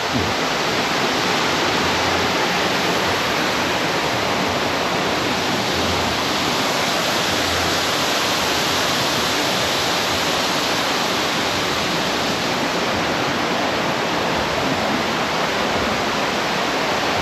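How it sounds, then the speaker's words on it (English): A man-made waterfall at the Polynesian Cultural Center in Hawaii pours in a steady, dense rushing roar, loud and close, continuous throughout with no voices. "There's some beautiful waterfalls here,"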